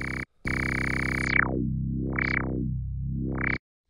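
A sustained synthesizer note played through the filter of Ableton Live's Simpler sampler, its bright, buzzy tone sweeping down to dark and rising again twice in slow wah-like filter movements, loud and alone after a brief gap.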